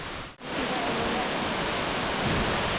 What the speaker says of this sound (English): we can hear the waterfall already